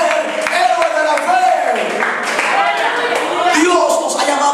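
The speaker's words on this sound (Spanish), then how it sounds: "Dale el aplauso al Señor, aleluya." A church congregation claps along in steady, continuous applause, filling the space throughout, mixed with a preacher's voice and crowd noise.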